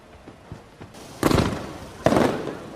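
Fireworks on a beach in a film: a few faint thuds, then two loud crackling bursts about a second apart, each fading with a sizzling tail, with no talking.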